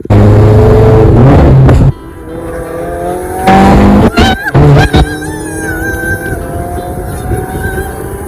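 A Subaru car on new wheels during a test drive, engine revving hard in loud bursts that drop off between gear changes, with rising engine whine and tire noise at close range.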